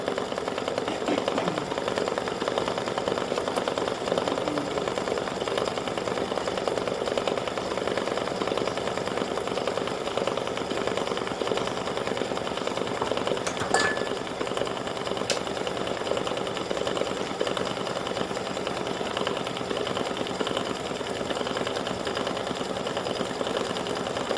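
An embroidery machine stitches flowers onto card stock in a steady, fast mechanical whir and clatter that runs continuously and close up, with a couple of brief clicks.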